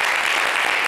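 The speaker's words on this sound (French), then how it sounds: "Applaudissez pour cette danse." An audience applauds after a dance, a dense burst of steady clapping heard close and full for under a second.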